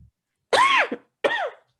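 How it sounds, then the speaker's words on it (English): Two harsh, violent coughs from a woman, the first longer and strained, the second shorter, close and loud with silence between. "coughs violently"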